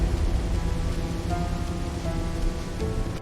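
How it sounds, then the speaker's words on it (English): Steady rain pours on a cold night in Portland, a dense, even hiss of drops with no voices. "A cold and rainy night in Portland."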